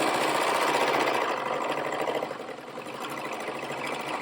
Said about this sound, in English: We're serging our outseam seam allowance. Separate them out and serge them individually.